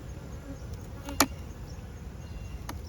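Honeybees in a hive give off a low, steady hum that runs under the whole stretch, with a brief sharp tap or knock near the middle and another faint one later.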